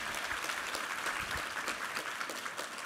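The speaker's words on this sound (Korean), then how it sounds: "우리 하나님께 감사와 영광의 박수 올려드리겠습니다" A church congregation claps steadily during a Sunday service, a dense patter of many hands at moderate distance, with no voices.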